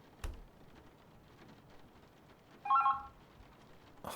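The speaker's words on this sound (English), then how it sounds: "Oh, the phone." A telephone in The Berlin Apartment game gives a single short electronic ring burst, quiet and near, against faint rain-like ambience, with a soft thump just before and another at the end.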